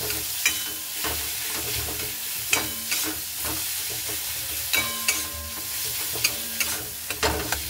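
Potato being mixed into a spiced mixture in a pan for a low-oil school tiffin, with soft sizzling under repeated scraping and stirring strokes and sharp spatula knocks against the pan at irregular intervals; no talking.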